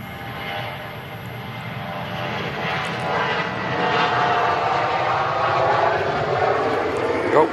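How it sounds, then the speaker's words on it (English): KLM airliner departing from runway 23 right at Manchester Airport, a loud broad engine roar that swells gradually as it builds, with people talking over it. "First departure of the morning from 23 right is that KLM 73."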